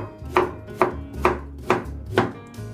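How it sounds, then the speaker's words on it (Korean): A knife cuts radish into quarters for kkakdugi, five evenly spaced, solid thuds on a cutting board heard up close with a low background hum. "요거 나머지 것도 한 4등분으로 썰고,"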